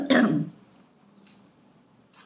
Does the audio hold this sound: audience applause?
no